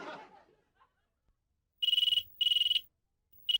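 Ringback tone of an outgoing telephone call in a Hindi sitcom scene, sounding as two long electronic rings and the start of a third, following a brief burst of laughter.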